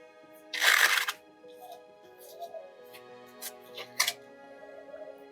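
Tarot cards are shuffled in one close, crisp riffle near the start, followed by a few softer card flicks and taps in a quiet room.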